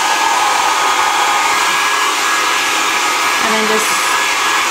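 A handheld hair dryer blows steadily and loudly on hair being rolled up to dry, a constant close whoosh throughout with a brief voice speaking over it near the start.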